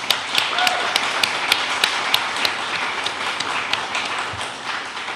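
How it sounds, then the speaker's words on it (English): Applause from an audience at the kickoff of a PAARI program in Batavia, dense and fairly loud with sharp individual claps standing out, continuing steadily before easing slightly toward the end. "you guys should give yourselves a round of applause"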